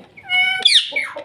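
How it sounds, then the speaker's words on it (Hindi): Pet parrots give close, loud harmonic calls, first a drawn-out squawk, then a sharp rising screech and a shorter call, in quick succession. "ये तोते देखें माशाल्लाह से बोल रहे हैं"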